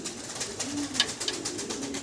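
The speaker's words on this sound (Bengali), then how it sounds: "আপনারা দেখতেছেন অ্যালমন্ড কালারের ভিতরে একজোড়া লং ফেস কবুতর, খুবই চমৎকার" A pair of almond-coloured long face pigeons cooing close by, a run of soft repeated coos over about two seconds with no one talking.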